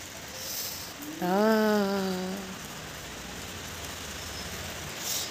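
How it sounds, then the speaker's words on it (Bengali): Steady rain falls outdoors under an overcast sky, a constant soft hiss throughout, with one short, tonal call rising over it early on. "বৃষ্টি হচ্ছে এখনও, আকাশটা দেখো পুরো ম্যাগ ম্যাগ করে রেখেছে পুরো, দেখো বৃষ্টি হচ্ছে।"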